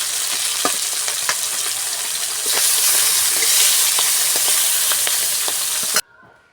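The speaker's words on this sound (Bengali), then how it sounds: "এগুলো এখন ভেজে নেব।" Another batch of garfish frying in a pan of hot oil gives a loud, bright sizzle with intermittent pops and spits. The sizzle swells midway, then stops abruptly, leaving only faint room noise.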